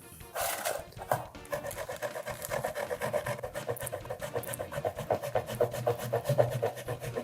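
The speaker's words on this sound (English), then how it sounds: "So I've been grating for 3 minutes now." Hand grating with a box grater while making carbonara tteokbokki, a steady run of rhythmic rasping strokes, fairly close and continuous with no talk.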